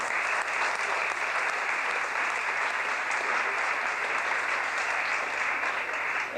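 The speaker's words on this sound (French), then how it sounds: "Je vous demande d'applaudir Florence Janin, du centre d'équestre de Chevagny-les-Chevrières." An audience at a store inauguration in Mâcon applauds for a riding-centre representative, a steady, even roar of clapping that stays constant and somewhat distant for the whole stretch.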